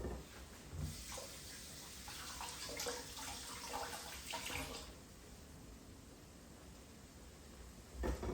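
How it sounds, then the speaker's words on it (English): Hands being rinsed under a running kitchen tap while preparing a recipe with fresh produce, a steady broadband splash of water through most of the clip with a brief stronger gush near the end, no talking. "I'll go ahead and rinse my hands off."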